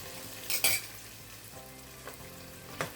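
Onions sizzle and crackle in hot oil, with a few louder bursts of spatter and light stirring scrapes.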